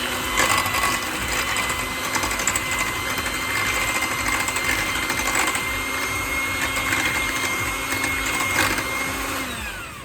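Electric mixer beating eggs into lemon blueberry loaf batter, a steady close motor whir with a constant tone that runs for about nine seconds before easing off at the end.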